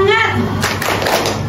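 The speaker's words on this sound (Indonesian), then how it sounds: "Tepuk semangat" Children in a school classroom clap a short rhythmic spirit chant, a few quick claps mixed with young voices, close and loud.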